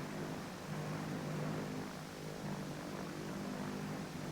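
A propeller-driven mail plane flies steadily close by, its engine giving a continuous droning hum with a low rhythmic throb that holds at a constant loudness throughout.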